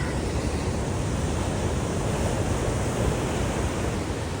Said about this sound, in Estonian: Lained on ka hästi tugevad praegu.